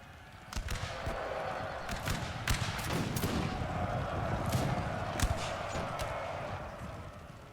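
Massed musket volleys from grenadier lines in a Napoleon Total War battle at Cadiz, a dense crackle of scattered shots popping over a steady battlefield roar, with sharp individual reports standing out throughout.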